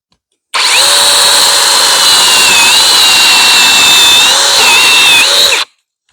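A loud, steady whine of a Mellif 20V cordless chainsaw running at high speed for about five seconds, then cutting off abruptly.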